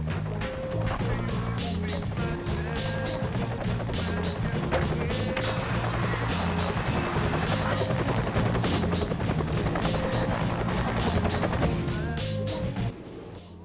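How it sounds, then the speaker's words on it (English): A helicopter on an oil rig in Tony Hawk's American Wasteland drones loudly and steadily with a thumping rotor, mixed with game music and occasional crashing impacts, and cuts off abruptly at the end. "there's a chopper waiting for you"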